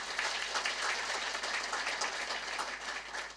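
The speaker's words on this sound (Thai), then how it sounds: "วันนี้ก็อยากจะให้ทุกท่านปรบมือ อีกสักครั้ง" An audience applauds at a Thai award or tribute event, a dense, steady wash of clapping that continues evenly throughout at moderate loudness.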